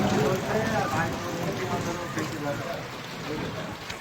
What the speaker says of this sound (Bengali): বৃষ্টি হচ্ছে একটু হচ্ছে